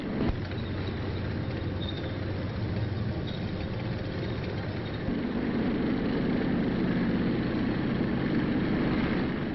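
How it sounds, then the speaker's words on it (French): Armored army vehicles roll past in a military parade, their engines a steady, thick roar that swells midway. The recording is old and muffled, with no voices over it. "Voici dans le tonnerre des moteurs l'armée blindée, triomphatrice des dernières batailles."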